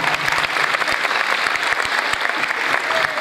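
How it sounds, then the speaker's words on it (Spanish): A crowd at an event gives strong, sustained applause, a thick continuous roar of clapping with scattered louder individual claps punching through, steady and full from start to finish. "Vamos a hacer un fuerte aplauso y arrancamos bien."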